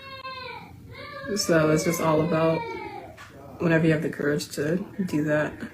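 A young child cries in wavering, rising wails in the background while someone talks over it.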